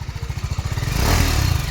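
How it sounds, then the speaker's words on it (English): BMW G310RR motorcycle exhaust, a single-cylinder idle thumping in a quick, regular pulse, then swelling into a louder, rougher rev as the throttle opens, close up with no talking. "Let's listen to the exhaust note."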